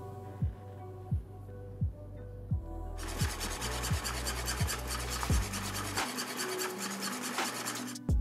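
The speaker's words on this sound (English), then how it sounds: "The squeezer has two motors, one to wiggle the bottle back and forth, and one to squeeze out the mustard." A motorized mustard squeezer for hot dogs thumps rhythmically about every three quarters of a second as it wiggles the bottle, then a loud grinding, rasping motor whir takes over as it squeezes.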